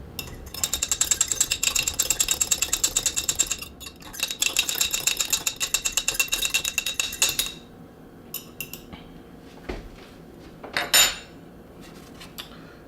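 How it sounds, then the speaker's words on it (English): A whisk clatters rapidly against a bowl while sweet and sour sauce is mixed, loud rhythmic metallic ticking in two long bursts, followed by quieter scattered clinks and a brief knock. "we'll just whisk that"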